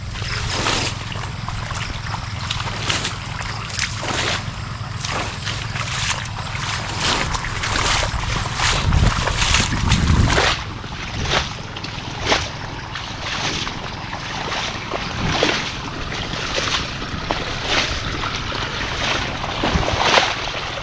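A small irrigation pump engine runs unattended in a rice field at nightfall, giving a steady low drone that carries on without a break under wind and open-air noise.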